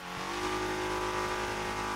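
Stock car drifting with the handbrake in the racing game Torque Drift 2: a loud, sustained engine drone at steady high revs, holding one strained pitch throughout with no voices.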